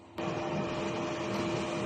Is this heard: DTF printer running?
yes